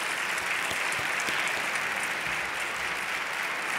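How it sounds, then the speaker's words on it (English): Steady audience applause closing a session of a conference on upper extremity neuroprostheses, many hands clapping in an even continuous wash throughout, moderately loud with no talking over it. "we will wrap up this session with applause for Hunter for that persevering in that vision."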